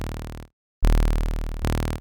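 A low sawtooth-wave 808 bass layer from the Vital synth, tuned down to 36, sounds as sustained buzzy tones: one note, a short gap of silence, then a longer held note that steps into a third, alone with no talk.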